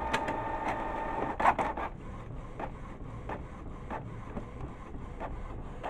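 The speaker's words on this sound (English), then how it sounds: "And the printer back to work." A Canon MG series inkjet printer fitted with refillable PG-240 and CL-241 cartridges runs again after a reset, giving a steady mechanical whir with repeated soft clicks and clunks, close and clear, with no talking.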